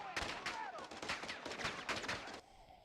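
Gunfire in Call of Duty: Modern Warfare II comes as a fairly quiet run of rapid, evenly spaced bursts lasting about two seconds, with faint voices mixed in.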